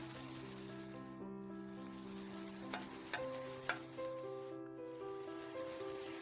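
Homemade yogurt doughnuts fry in hot oil with a steady, close sizzle that runs the whole time beneath background music, broken by a few small clicks.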